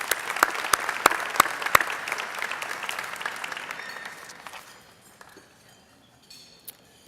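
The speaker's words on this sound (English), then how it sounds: "Please give them a round of applause." Audience applause at a Louisiana international trade gala, honoring past presidents; a dense burst of clapping with a few sharp claps that fades out after about four seconds, leaving faint room noise.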